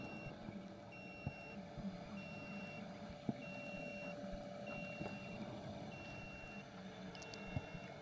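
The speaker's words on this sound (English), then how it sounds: "That beeping sound, I like to think of that as my locator beacon in case I ever get lost down here." An underwater locator beacon beeps at a regular pace during a deep dive on the Oriskany wreck, about 215 feet down. The faint, evenly spaced electronic tones sit over a low, constant underwater rumble with a few soft clicks.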